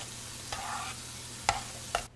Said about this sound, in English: Now I put the pumpkin in and mix it all together.